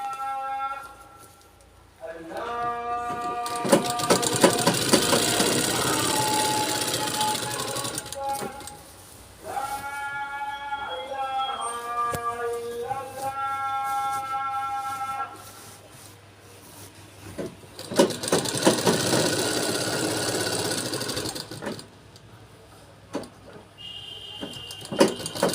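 A sewing machine stitches fabric in two long bursts of rapid mechanical whirring, with a person talking between and over the runs of stitching.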